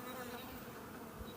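Honey bees buzz steadily at a hive on a mild day, a dense, even hum close by with no talk.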